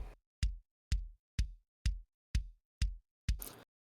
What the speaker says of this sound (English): there's a classic 4 on the floor, which is when the kick drum hits every beat on the floor